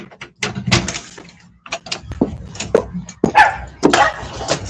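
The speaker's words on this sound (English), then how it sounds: "Fucking dog be scaring the shit out of me." A big dog barks at a gate in loud, close bursts, a quick run of sharp woofs and yips, with some rattling and clattering mixed in.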